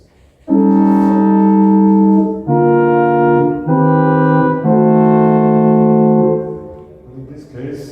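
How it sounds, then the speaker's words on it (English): A piano-style chord progression moves through four or five long, evenly held chords, each sounding full and steady, close and fairly loud, with no talking over it. "if you would play it on the piano, it would almost sound like this"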